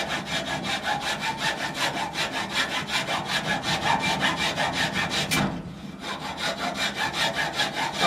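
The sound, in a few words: hand sawing wood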